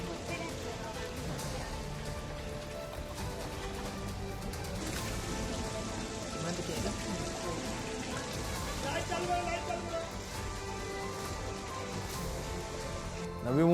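Heavy rain pours steadily over Mumbai's suburbs as streets flood, a dense, continuous wash of falling water that holds even throughout, with voices and other background sound mixed in beneath it.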